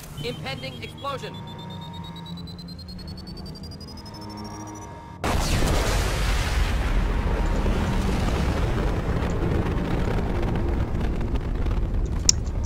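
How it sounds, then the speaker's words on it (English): Explosion in the video game Mass Effect 2, a sudden loud blast that cuts in after quieter game music and tones, followed by a sustained roaring rumble of fire and debris lasting several seconds. "Detecting explosion."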